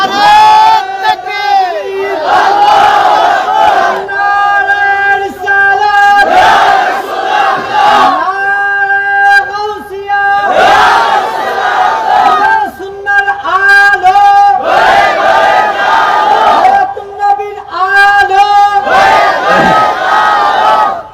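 A large crowd at a Bangladeshi Islamic sermon gathering chants the slogan Allahu Akbar in loud, repeated call-and-response waves, voices swelling together in rhythmic bursts of about two seconds each.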